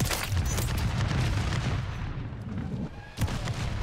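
Dense, sustained gunfire from the Pulemyot 762 machine gun in Call of Duty MW3, with loud continuous shots throughout, a brief dip, then a sharp burst near the end.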